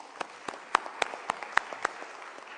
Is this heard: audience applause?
yes